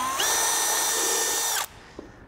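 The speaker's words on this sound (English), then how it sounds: "So we're going to drill the base of the airbox first" A power drill whines loudly at high speed for about a second and a half, drilling the base of a Ford Next Gen Ranger airbox, then cuts off abruptly, followed by a faint click.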